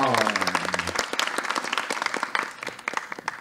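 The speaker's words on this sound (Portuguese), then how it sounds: "Salve de palmas para Isabelle, pessoal!" An audience claps in a brisk burst of applause at a poetry podcast event, dense and fairly close, with a host's voice heard over the start before the clapping carries on alone.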